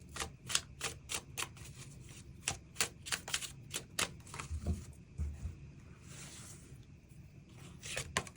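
Tarot cards are shuffled and drawn by hand, giving crisp rapid riffling clicks in quick bursts with brief pauses, close and fairly quiet with no speech.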